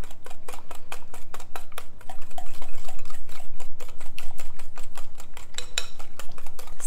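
A sugar, oil and soup mixture whisked in a bowl as the bowl turns, rapid even clicking strokes against the sides in a steady rhythm, close and loud with no voices.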